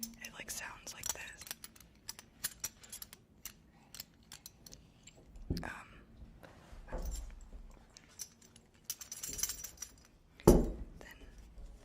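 A metal horse bridle bit is handled close up in a quiet setting, giving sparse, delicate clinks and jangles that imitate horses chomping on the bit, with soft whispering between them.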